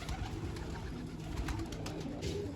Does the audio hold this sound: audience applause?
no